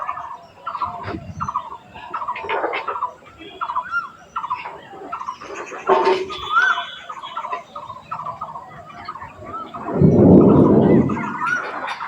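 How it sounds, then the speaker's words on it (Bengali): A buttonquail (natai) calling outdoors in a village setting, giving repeated low, hooting and gobbling calls in short runs, fairly prominent, with a louder rumbling burst near the end. "নাটাই ডাকছে"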